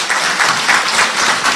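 A short, loud burst of clapping from a group, with a few quick swells in the rhythm of the hands. It lasts barely more than a second and sits up close, with no talking over it.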